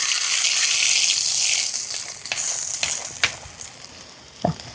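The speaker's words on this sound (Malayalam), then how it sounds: "നമുക്ക് ചട്നി താളിച്ചത് നേരെ ഇതിലേക്ക് ഒഴിച്ച് കൊടുക്കാം." Hot tempering poured from a smoking clay pan into chutney, giving a loud, bright sizzle that slowly fades, with a few crackles and pops near the end and no talk.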